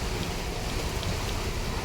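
Rain pouring onto a street vendor's market stall, a steady dense hiss of falling water with no pauses, loud and close, with no talking over it.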